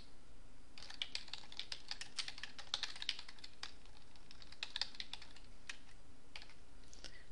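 Fingers type on a computer keyboard in quick, irregular bursts of light clicks, close and clear, with short pauses between runs of keystrokes and no speech.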